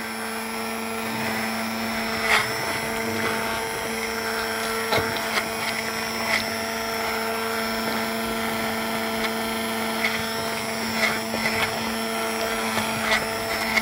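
A blender or food chopper mincing zucchini for a cream of zucchini soup, a steady whirring motor hum running throughout with occasional sharper clicks and bumps.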